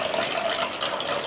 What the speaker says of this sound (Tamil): மீதி 1/2 கப்புக்கு தண்ணி சேர்த்துக்கலாம்